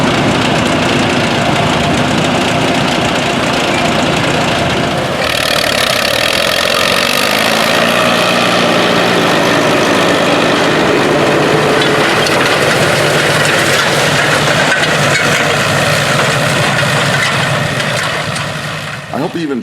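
A custom-built Allis-Chalmers WD tandem tractor engine idles loudly and steadily for the whole stretch at a tractor show, with a rough knocking rumble and a brief shift in tone partway through.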